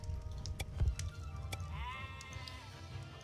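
Sheep bleat from a pen in the StoneHearth video game, a clear sustained bleat rising mid-clip over a low rumbling game backdrop with a few soft clicks.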